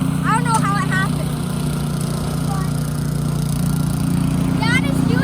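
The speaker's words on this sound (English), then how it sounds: "Dad is doing the snow blower. It's very loud right now." Outdoors after a snowstorm, a snow blower runs loud and steady with a constant low engine drone, while someone talks over it at times.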